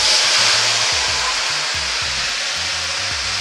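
Two medium tomatoes frying in a pan give a loud, constant close-up sizzle and hiss that stays even throughout, with a low mechanical hum underneath and no voices.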